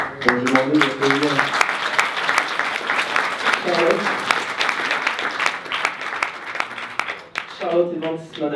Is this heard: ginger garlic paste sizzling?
no